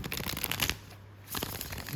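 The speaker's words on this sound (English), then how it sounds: "It's so smooth while shuffling." A Cosmic Tarot card deck with a smooth, soft card stock is shuffled by hand, giving two crisp riffling bursts of cards separated by a short pause, close and fairly quiet.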